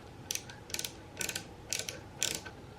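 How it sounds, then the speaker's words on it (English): A ratcheting screwdriver driving screws into a CVA Hawken muzzleloader rifle kit from the 1980s, five short bursts of sharp, clicking ratchet teeth, each about a quarter second long, spaced evenly with quiet gaps between. "I'm going to employ the ratcheting on my screwdriver."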